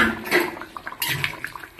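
A utensil stirs food in a cooking pot, giving a quick run of metallic clinks and scrapes with a faint wet swish, close and moderately loud, with no talking.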